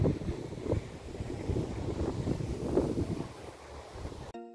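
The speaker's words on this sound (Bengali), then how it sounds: "প্রচণ্ড হাওয়া দিচ্ছে আর আশপাশ দারুণ সুন্দর দেখতে" Strong wind blowing outdoors in a village near the Dutch-Belgian border, a loud steady buffeting rush across the microphone that cuts off abruptly at the end.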